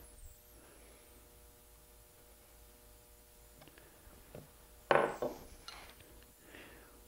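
Hand chisel work carving letters into wood, with quiet scattered taps and scrapes and one sharper, louder cut near the end against a faint hum, no talk.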